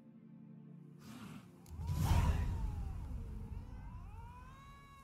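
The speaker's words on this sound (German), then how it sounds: "Immer diese Katzen, die am Ende am Fauchen sind." A cat's hiss and meow with a whooshing burst, set against a steady low hum, from the video game The Witcher 3: Wild Hunt, fairly close.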